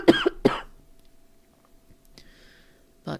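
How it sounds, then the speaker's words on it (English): Two sharp coughs from one person near the start, loud and close, then near quiet with a faint tone, and one more brief cough burst at the very end. "excuse me, sorry, got a cough"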